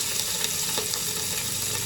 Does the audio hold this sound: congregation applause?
no